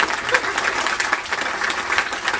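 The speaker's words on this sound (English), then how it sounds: "Give a big round of applause to Chef Matthew, everyone" An audience aboard the Disney Dream cruise ship applauds to welcome a chef for a cooking demonstration, close, lively clapping from many hands with slight rises and falls and a few cheers.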